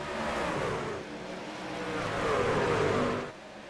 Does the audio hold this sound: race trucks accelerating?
yes